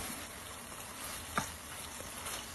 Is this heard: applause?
no